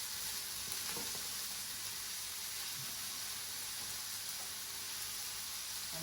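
Broccoli and asparagus sizzle in a pan alongside king prawns, a steady, fairly quiet frying hiss that holds evenly for several seconds. It is broken only by a few faint clicks, and no one talks.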